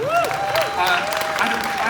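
A fan expo panel crowd claps loudly and steadily, with scattered whoops and cheering voices rising over the applause.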